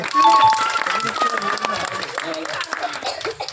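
A group of children clap and chatter during an outdoor game of dribbling a football between bottles, with uneven, scattered claps mixed with voices and laughter.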